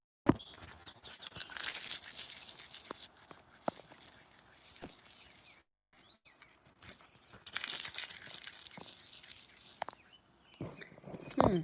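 Dried coltsfoot leaves are crumpled and crinkled by hand in a wetland garden, giving close, crisp rustling and crackling bursts with a short pause in the middle. Faint talk and occasional birds sit underneath.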